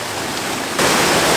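Jogini waterfall near Manali roars as a loud, dense wash of rushing water, steady at first and then swelling brighter and fuller partway through the short stretch.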